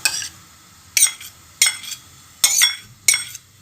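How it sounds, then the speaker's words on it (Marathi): Ghee meets a hot kadhai during besan laddu preparation, heard as a series of five sharp, bright metallic clinks and scrapes. The strokes come at roughly even intervals with near-silence between them. "कढई गरम करून घेतली बघा, त्यामध्ये आता मी तूप घालून घेते"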